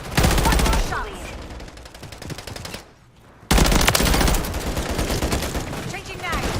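Rapid automatic gunfire in Call of Duty: Modern Warfare III, loud dense bursts of shots that stop briefly for a near-silent gap before another heavy volley, with game voices mixed in.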